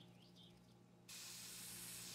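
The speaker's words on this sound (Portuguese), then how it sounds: "E depois mosquito spray em cima." An aerosol can of mosquito spray fires a sudden, steady hiss in the game My Summer Car, starting about halfway through and holding loud and unbroken to the end over a low background hum.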